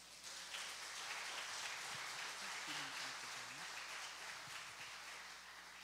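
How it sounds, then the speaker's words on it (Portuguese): Church congregation applauding during a worship service, a steady wash of clapping heard from some distance, fairly quiet and continuous. "Jesus merece uma salva de palmas."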